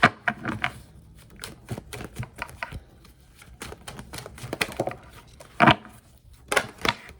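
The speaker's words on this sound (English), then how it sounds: "I feel like the shuffling is like the most awkward part." A deck of cards shuffled by hand during a past-life reading: irregular crisp riffles, taps and snaps, close and fairly quiet, with a couple of louder bursts near the end.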